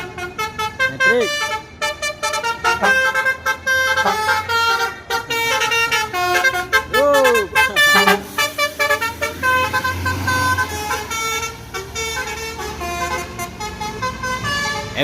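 Buses sounding musical telolet horns, loud, close melodic toots in rising and falling bursts that repeat over passing traffic noise.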